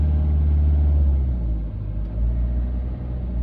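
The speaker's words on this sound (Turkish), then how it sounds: "Bir gaz ver bakalım." A driving-school car engine held at about 2000 rpm, a close, steady low rumble that dips briefly midway and then swells again, alone without voices.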